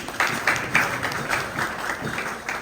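At a cultural festival gathering, an audience claps for the vice president, a brief patch of moderate clapping with a few sharper bursts standing out.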